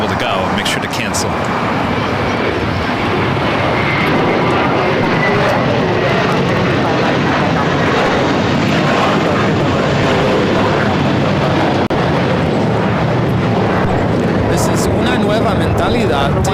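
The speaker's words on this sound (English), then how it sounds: "taking off to Boston on the A321 JetBlue Airways, flight 188." A JetBlue Airways Airbus A321 on its takeoff roll for Boston at LAX, a loud continuous engine roar that builds and holds, with people talking over it.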